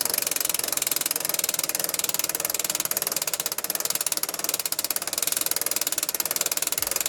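A DuraTruss DT-PRO3500 portable truss crank stand is cranked up with a dense, fast, even ratcheting clatter that runs loud and continuous throughout, with no talk.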